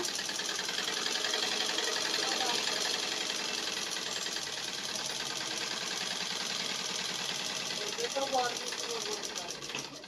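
Sewing machine running in a home setting, a continuous whirring drone at a steady moderate loudness throughout, close by, tapering slightly at the end.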